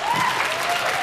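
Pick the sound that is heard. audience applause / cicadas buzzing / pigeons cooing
audience applause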